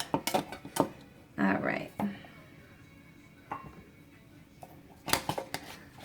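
A big whisk works a thick, dry tahini paste in a bowl, making sharp metallic clicks and scrapes in irregular bursts with pauses between them. A voice speaks briefly.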